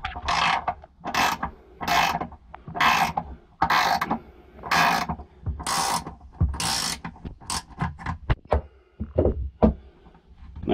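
A wrench tightens the exhaust gas temperature sensor on a 2019 Sea-Doo FishPro, giving a run of loud, close ratcheting bursts in a steady rhythm that turn into quicker, shorter clicks near the end, with no talking.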